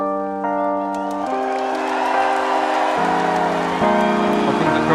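Live concert audience during a duet: a swelling roar of cheers and whoops rises beneath held sung harmonies, growing louder across the stretch.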